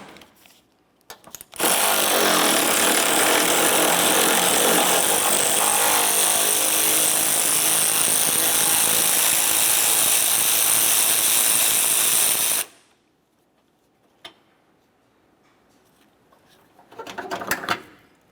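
A power tool removes a 10mm nut from the cruise control module bracket of a 2001–2005 Ford, running as one loud, steady, harsh whir for about ten seconds, then stopping, followed by faint clicks and handling noise.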